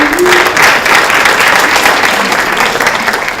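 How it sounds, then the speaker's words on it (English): An audience gives loud, sustained applause at a presentation, with dense, steady clapping close by from start to finish and a brief voice near the beginning. "Can we give David some applause, please?"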